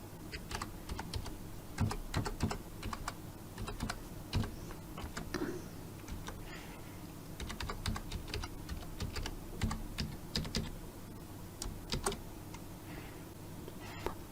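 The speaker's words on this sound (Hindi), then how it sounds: "वो यूज़र नेम पासवर्ड टाइप करके हम लॉगिन करेंगे।" Rapid, uneven keystrokes on a computer keyboard as a username and password are entered to log in, clicking steadily close by with brief pauses and no talking.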